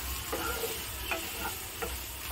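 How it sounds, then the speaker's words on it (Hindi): Green chili thecha frying in a pan while being stirred, a steady faint sizzle with a few soft scraping strokes spaced about every half second to second, no talking. "इसे कंटिन्यू चलाते रहना है।"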